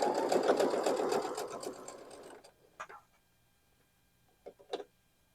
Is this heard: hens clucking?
no